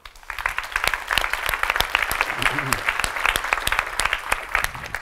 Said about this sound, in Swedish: och ge honom en varm applåd också